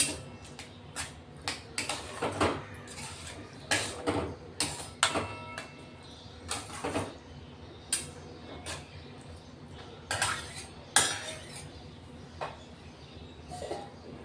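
Curd being stirred into spice masala in a pan while cooking a quick moong usal, giving repeated scraping and clinking taps in an irregular rhythm, close by and moderately loud.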